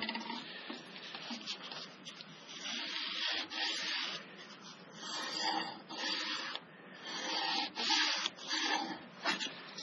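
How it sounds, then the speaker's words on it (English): Soapstone scratches marks onto a metal piece in a workshop: soft, irregular rubbing and scraping strokes, close and fairly quiet, repeating in short bursts with no talk. "Mark this with my soapstone."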